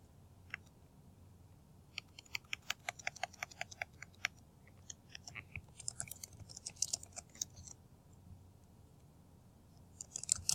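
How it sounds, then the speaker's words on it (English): Keys tapped on a computer keyboard in a quiet classroom setting, a scattered run of light clicks that picks up into a quick burst, then trails off into softer taps and a final flurry. "So I am going to type that here while you write it in your paper."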